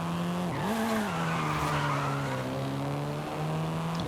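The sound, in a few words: car drifting with tire squeal in the video game Forza Horizon 5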